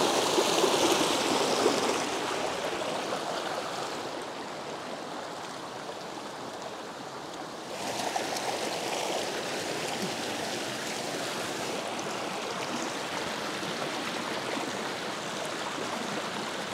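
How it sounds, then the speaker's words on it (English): A small hot spring river stream in Japan flows steadily and close, a continuous rushing and trickling wash of water with slight swells in loudness, with no voices. "I started climbing up the little hot spring river,"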